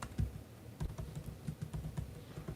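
Someone is typing on a computer keyboard, giving a steady run of soft, quiet key clicks with a slightly uneven rhythm and no voices over it.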